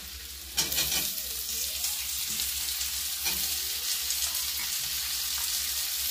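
Capsicum fries in a pan with a loud, continuous sizzle that jumps up as it hits the hot oil, with occasional stirring scrapes.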